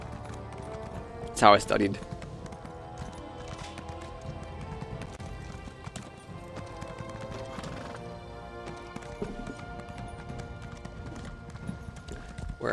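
Horse hooves clip-clop at a gallop in the video game Elder Scrolls Online on Xbox One, with a neigh early on, game music throughout and someone talking over it.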